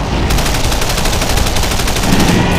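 Rapid machine-gun fire in the WWII strategy game Men of War: Barbarossa rattles in steady, loud bursts with overlapping shots throughout, dense and unbroken by speech.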